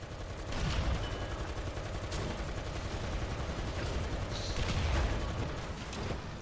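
Heavy gunfire and booming tank cannon blasts roll through a tank battle video game, a dense, continuous barrage of loud shots and rumbling impacts that swells near the end.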